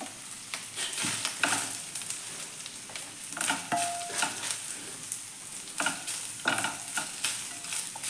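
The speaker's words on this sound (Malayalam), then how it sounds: "അപ്പോൾ എല്ലാം ഞാൻ ഒരുമിച്ച് തന്നെയാണ് ഇട്ടിട്ട് ഫ്രൈ ചെയ്തെടുക്കുന്നത് കേട്ടോ" Grated coconut, black pepper and cumin stir-fry in a pan for a potato masala curry, a steady soft sizzle broken by repeated scraping strokes of a spoon at an even, unhurried rhythm, close and alone.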